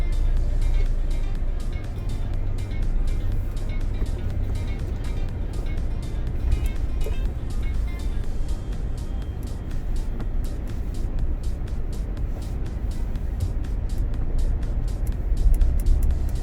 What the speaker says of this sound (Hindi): तो हम अभी गाड़ी को यहाँ से निकाल के देखते हैं चलाते हैं